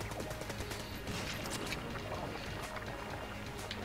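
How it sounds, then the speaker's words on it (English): Rapid burst of machine pistol fire in a speedrun video game, a dense crackling volley running the full few seconds at steady loudness. "Letting go with the machine pistol."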